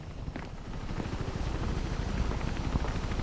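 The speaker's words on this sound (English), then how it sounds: "There's a helicopter here." A helicopter in Mirror's Edge keeps up a steady low thudding rotor chop, moderately loud and constant, with faint footstep-like taps over it and no speech.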